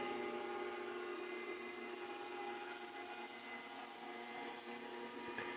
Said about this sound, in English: Noise wise, it's pretty quiet as vacuum cleaners go.